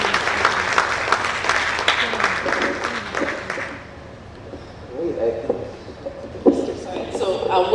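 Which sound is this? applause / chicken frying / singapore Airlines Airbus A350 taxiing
applause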